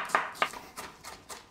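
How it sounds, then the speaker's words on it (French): A knife slices leeks finely on a cutting board, giving about five crisp cuts at a steady pace. The first strokes are sharper and closer than the rest, and no one talks. "je vais émincer le plus finement possible mon poireau"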